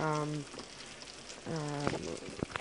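Pork chops and chopped onions fry in a pan with a steady, close sizzle that crackles lightly, while a person talks over it in two short stretches.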